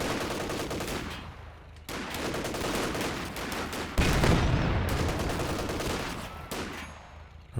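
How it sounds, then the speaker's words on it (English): Rapid machine-gun bursts from an OKW unit in Company of Heroes 2, crackling loudly and continuously with brief gaps and a heavier impact midway, battle noise filling the background. "Machine gun continues to soften them up."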